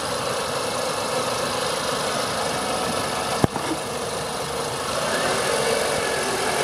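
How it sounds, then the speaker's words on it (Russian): A 2012 Renault Fluence with a 1.6-litre 16-valve K4M838 petrol engine idles steadily with a close, even hum, broken by one brief sharp click midway. "Работа двигателя на холостом ходу."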